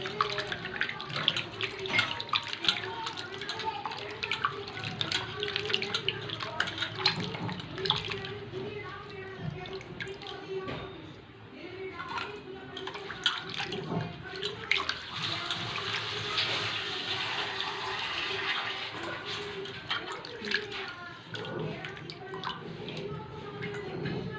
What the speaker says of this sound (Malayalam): നല്ല വെള്ളത്തിലിട്ട് കഴുകി വാരി വയ്ക്കുക